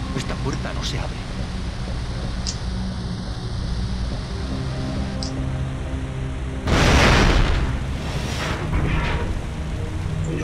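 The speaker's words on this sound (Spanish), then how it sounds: "La explosión, vaya sustaco, ¿no?" An explosion in the PS2 survival horror game Cold Fear bursts out of a steady rainy, rumbling game ambience, with a heavy boom followed by a second, smaller surge. Someone talks at times over the background.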